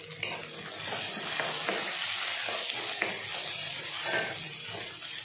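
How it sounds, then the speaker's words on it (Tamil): Chopped onions sizzle and fry steadily in a hot pan, with occasional scraping stirs. "पोडिया नरुक्कि वच्च रेंडु पेरिय वंगायत्तै सेर्त्तुट्टु वदक्किरलाम"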